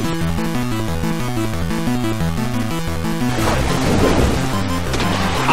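Attack landing in Pokémon Battle Revolution, a sudden loud crashing smack with a noisy burst cutting across steady rhythmic background music.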